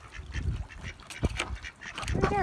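Male ducks quack repeatedly at close range, raspy bursts in uneven clusters, outdoors on a spring day at a poultry plunge pool.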